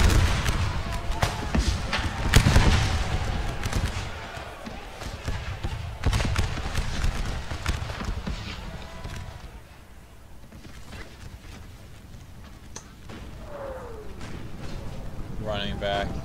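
Musket volleys and artillery booms crack and thump across a Napoleon: Total War American Civil War battle, loud bursts early then thinning out, with a player talking over much of it.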